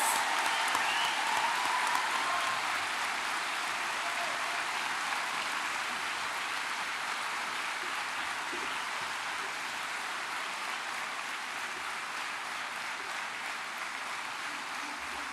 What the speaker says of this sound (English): Can we have a massive round of applause for all our Bachelor of Education students today?